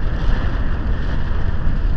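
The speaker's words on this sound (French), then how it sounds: "Donc comme vous l'entendez, il y a pas mal de vent." Strong wind rushes and buffets the microphone in a constant low roar while a rider cycles up a repeated climb, with no voices.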